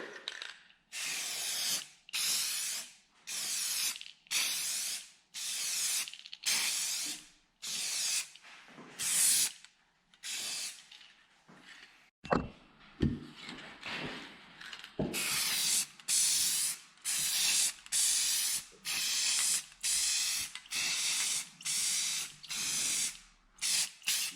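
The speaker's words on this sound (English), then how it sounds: "Then I'm gonna clear coat it and I'll show you. Let's clear coat it." Clear coat is sprayed onto a copper dish in repeated close, loud hissing bursts, each lasting about a second with short gaps, and a few clicks and clatters in the middle.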